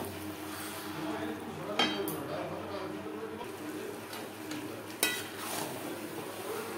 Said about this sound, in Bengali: আলু ও মশলার সাথে মোচা ও ছোলা বেশ ভালো করে মিক্সড করে দেবো